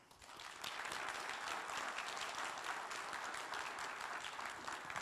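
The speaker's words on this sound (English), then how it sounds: "So please give her a round of applause." Audience applause at a Shmoocon 2020 security conference talk, a steady, fairly distant patter of many hands clapping that swells quickly and holds evenly for several seconds.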